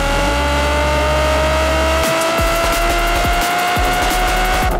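A high-revving Nissan 350Z sports car engine sustains a loud, steady whine, then drops into choppy bursts and pops as the throttle is blipped repeatedly.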